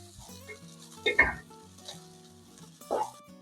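Vegetables and hyacinth beans fry in a pan, with a soft, quiet sizzle and a couple of louder stirring scrapes against the pan.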